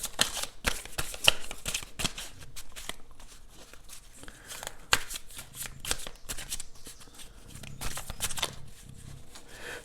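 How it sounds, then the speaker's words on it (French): Tarot cards being shuffled and drawn, close crisp riffling and slapping bursts repeating irregularly throughout, with soft card handling between them and no speech. "Je regarde votre tirage pendant que je regarde, que je tire les cartes."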